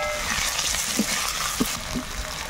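Ginger-cumin paste, turmeric and chilli powder frying in hot oil for a fresh fish curry, a steady close sizzle with a few soft stirring knocks and no talking.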